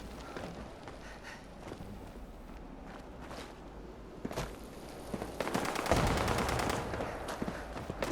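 Gunfire in a shooter video game crackles in scattered bursts, faint and distant at first, then a denser, louder volley of rapid shots near the end, with no talk over it.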